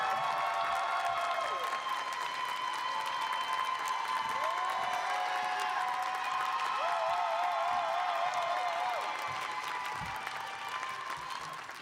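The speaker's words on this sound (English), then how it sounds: "so I appreciate the applause" Sustained applause from a large audience at a graduation hooding ceremony, steady and dense throughout and only easing slightly near the end, with a few faint voices in the crowd.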